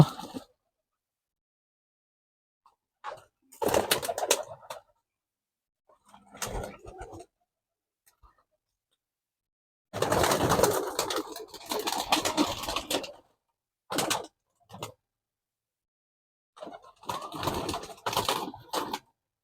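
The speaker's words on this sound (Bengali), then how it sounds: "কত মজা করে পায়রাগুলো খাচ্ছে" Murshidabadi tumbler pigeons feeding, with soft cooing and scattered pecking and fluttering noises in intermittent bursts, separated by near-silent gaps, faint and close by.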